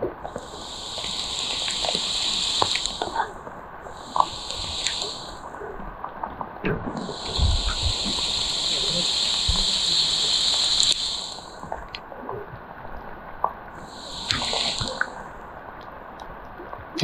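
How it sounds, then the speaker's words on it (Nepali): Floodwater from overflowing streams spills across a road at Bulbule, Surkhet, after continuous rain. It makes a steady broad rushing wash, with recurring high-pitched shrill bursts rising above it. "बुलबुलेमा पुरै खोलाहरू ओभरफ्लो भएर पुरै बाटोभरि अस्तव्यस्त पानी बगिरहेको छ"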